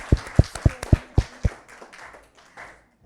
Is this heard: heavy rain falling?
no